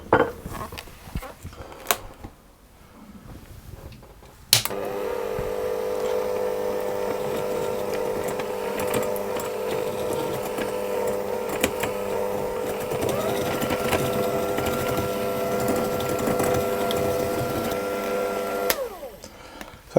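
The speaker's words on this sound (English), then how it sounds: "but I'm going to do it with my hand mixer. And I want to mix this until it's nice and fluffy." Electric hand mixer whisking butter and sugar for a Bakewell tart, a steady whirring motor hum that starts abruptly after a few soft clunks and runs continuously for about fourteen seconds before cutting off.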